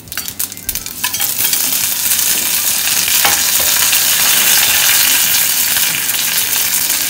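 Mustard seeds and curry leaves sizzle and crackle steadily in hot oil for a Kerala-style bitter gourd theeyal, a loud continuous frying hiss with scattered pops and a faint stir near the start.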